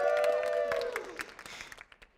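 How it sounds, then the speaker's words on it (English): A lecture audience claps briefly, starting under a fading, falling tone, then thinning into a few scattered claps that die away within about two seconds. "Let's give her a round of applause."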